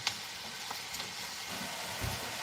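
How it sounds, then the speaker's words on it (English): Bacon and cabbage sizzling in a frying pan in an Irish home kitchen, a soft steady crackle running throughout with a few small stirring knocks, close and fairly quiet. "Hear that sizzle?"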